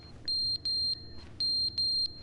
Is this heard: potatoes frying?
no